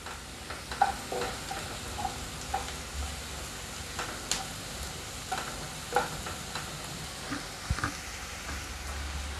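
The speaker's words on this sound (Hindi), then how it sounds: "थोड़ा और इसे चलाते हुए भून लेते हैं।" Onions sizzle and fry in a pan while being stirred toward golden brown for a spicy chana dal and methi curry, with steady crackling and soft scraping strokes throughout.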